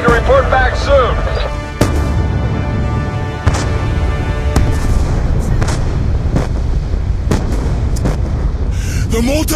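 Mortar fire in Call of Duty: Black Ops 2, heavy booming impacts striking at irregular intervals, several sharp loud blasts over a rumbling battlefield background, with shouted voices briefly at the start.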